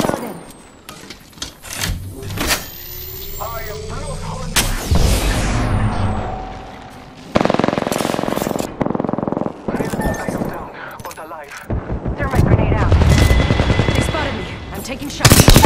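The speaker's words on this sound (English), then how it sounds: "I'm getting shot at" Bursts of automatic and single-shot gunfire in the shooter game Apex Legends, loud and repeated in rapid volleys with short gaps, mixed with game effects and voices talking over the action.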